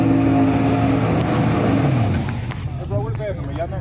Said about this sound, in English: They're racing, they're doing test runs.